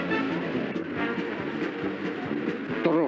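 A train rumbles at a railway station with a steady rolling clatter and a rhythmic clickety-clack of wheels, moderately loud and close, with no voices over it.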